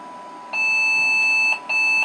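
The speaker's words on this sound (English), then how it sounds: "that beeping was because I didn't have a monitor connected" A 486 PC with a VLB motherboard beeping because no monitor is connected, one long high electronic beep followed by a short gap and a second beep, clear and close with no talk.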